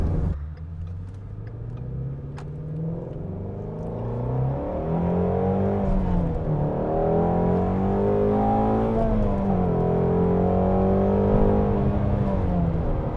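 A Ford Mustang Shelby GT350 with a flat-plane-crank V8 accelerates hard through several gears, its loud engine note rising in pitch, dropping at each shift, then climbing again, heard from the cabin with no talking.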